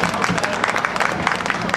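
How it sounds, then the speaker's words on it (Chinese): An outdoor street audience claps for a stage crew before a performance, giving a short, dense burst of applause with crowd murmur throughout. "我们在开始以前可不可以给我们一个掌声好吗"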